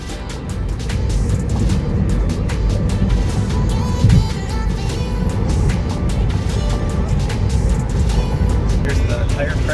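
Tesla Model 3 electric car driving on a mild day in Los Angeles, a steady close rumble of road and tire noise filling the cabin throughout, with a brief louder thump near the middle.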